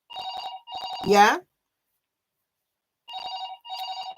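A telephone rings in short repeated electronic bursts, two rings, then a pause and two more, loud and close, with a brief spoken word between them.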